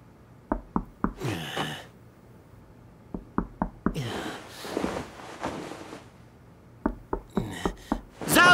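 Sharp knocks on a door come in several quick groups of three or four raps, interleaved with bursts of breathy noise and rustling between them; no speech is heard.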